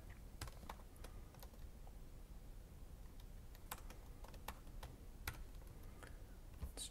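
Close, quiet typing on a computer keyboard while code is entered, with irregular bursts of crisp key taps scattered across the span over a low background hiss.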